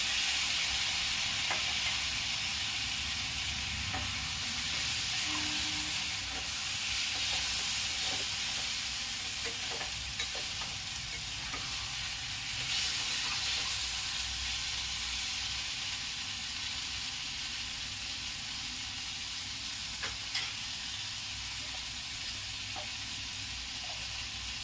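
A steady, broad sizzle of spices frying in a hot pan continues throughout, with occasional faint clicks and scrapes.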